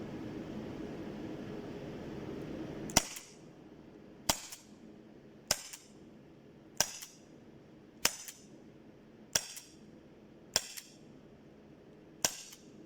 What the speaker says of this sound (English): shoot off a couple of rounds here. Now I want you to listen to the sound